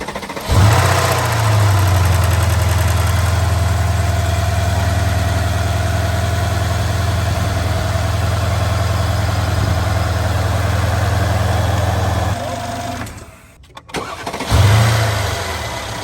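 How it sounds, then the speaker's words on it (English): Mercedes ML63 AMG with the M157 bi-turbo engine starts and settles into a steady, loud, close idle for about twelve seconds, then briefly cuts out and fires up again; no talking. "now I'm gonna start the vehicle for any air bubbles in the system to come out"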